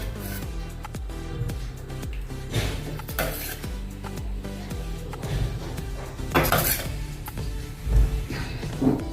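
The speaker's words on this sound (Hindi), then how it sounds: "अभी इसमें हम सांभर डालेंगे।" Utensils clink and scrape against pots and dishes as sambar is ladled over idli, in a string of close, light metallic knocks and rubs.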